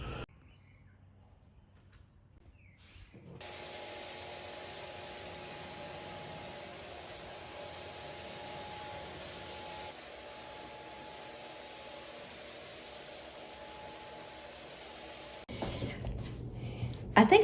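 A steady hiss of spray paint goes over a particle board dresser for about twelve seconds, close and even, with quiet room sound before and after.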